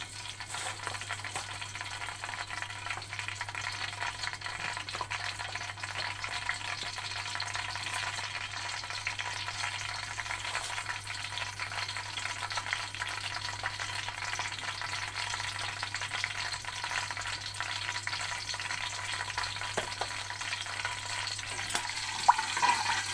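Whole garam masala spices roasting in a hot pan, a steady soft frying sizzle running evenly throughout with faint stirring scrapes, no voices.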